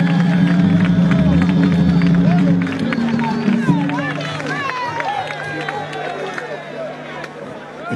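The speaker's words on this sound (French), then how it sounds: "Applaudissons pour eux." A concert crowd in Benin claps and cheers over a low musical hum. The hum drops out partway through, leaving a steady patter of many hands with crowd noise and voices mixed in.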